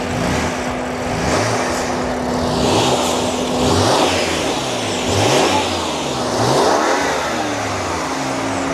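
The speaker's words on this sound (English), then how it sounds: "So now let's do a sound check for the F80." A completely stock BMW F80 M3 with four catalytic converters idles with a steady drone, then revs in a series of about five rising and falling blasts, loud and close with no talking.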